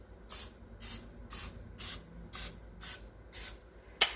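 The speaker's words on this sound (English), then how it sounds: "Let's spray some butter on them." Butter spray from a can misted onto pizza dough breakfast cupcakes: eight short, even hissing bursts about half a second apart, close and fairly quiet, ending with a small clatter.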